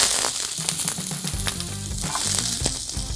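Half a batch of peppers and onions dropped into a hot oiled pan for fajitas, a loud close sizzle that swells as they land, scattered pops and crackles throughout, no talking.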